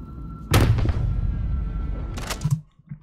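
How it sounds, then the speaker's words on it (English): Slow-motion gunshot effect resembling a musket shot: a loud, deep booming blast with a long rumbling tail, followed by a second sharper crack near the end, heard alone. "this sounds like a musket shot, right?"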